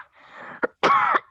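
A person clears their throat and coughs at close range, first a raspy rumble, then a short sharp cough, a longer loud hack and a final brief cough.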